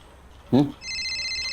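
A brief voice, then a telephone starts ringing with a steady electronic trill that continues to the end.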